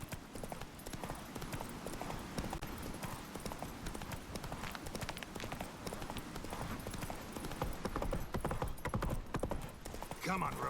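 Roach, a horse in The Witcher 3, gallops during a chase in the game. Dense, rapid hoof clip-clops pound continuously at a driving rhythm, mixed with game ambience and faint voices.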